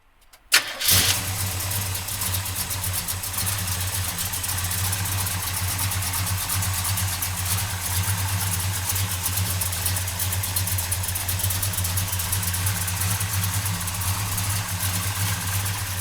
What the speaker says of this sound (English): come on up and we'll fire this big block up